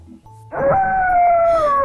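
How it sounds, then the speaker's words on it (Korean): A wolf howl sound effect rises into a long, loud, sustained tone that holds steady and then slowly bends downward, heard alone after a short electronic chime-like lead-in. "으르렁 무서운 늑대도 나타났어요."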